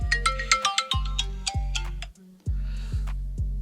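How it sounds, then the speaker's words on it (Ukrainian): An electronic ringtone plays close by, a repeating melody of bright, plucky tones with a low pulsing beat and a short pause partway through. "О, шеф дзвонить, секундочку"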